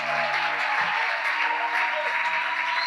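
Church congregation applauding steadily at a French-language worship service, a dense wash of clapping heard up close throughout.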